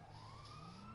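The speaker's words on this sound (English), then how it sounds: "A lot of cop sirens." Police sirens wail steadily in GTA 5 Online, a rising and falling tone sustained throughout at moderate, fairly distant level with no talk.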